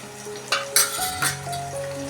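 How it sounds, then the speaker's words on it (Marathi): Garlic, chili and coriander paste sautéing in oil alongside softened onion and tomato, brief clinks and scrapes of a utensil against the pan over a soft sizzle, close and short, with no voices. "तर ही चांगली तेलामध्ये परतून घेते"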